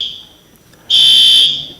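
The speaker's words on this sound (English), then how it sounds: "uh-oh, that's our fire alarm." A fire alarm sounds in a TV studio: one loud, shrill, high-pitched tone starts abruptly after a faint steady beep and holds for about half a second.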